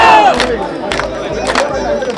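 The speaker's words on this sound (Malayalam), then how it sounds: "രാവിലെ മുതൽ തന്നെ ക്ഷേത്ര പരിസരത്തും കരകളിലും ആഘോഷവും ആർപ്പുവിളികളും ഉയർന്നു" A festival crowd around a Kerala temple during the Chettikulangara Bharani celebrations raises loud, close bursts of cheering and rhythmic shouted cries, swelling in waves over a constant crowd roar.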